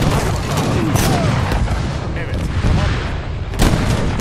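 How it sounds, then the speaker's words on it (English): Heavy cannon fire in an Age of Empires 3 Definitive Edition multiplayer battle booms in dense, overlapping blasts, loud and continuous, with a voice talking underneath the barrage. "they do have a lot of cannons"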